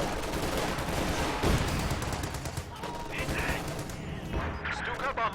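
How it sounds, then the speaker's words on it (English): Sustained bursts of gunfire from an aerial strafing run in a war strategy game, dense and loud in the first half, then thinning into scattered shots and crashes beneath game voices. "The strafing run is finally finished."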